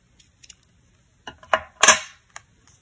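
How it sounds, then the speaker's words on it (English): Scissors trimming the loose ends of knotted cord on a pop-up card: a few faint taps, then two or three sharp, close snips in quick succession, with a quiet click afterward. "Once I have my knots and I'm happy with it, I can go ahead and just trim off the ends here"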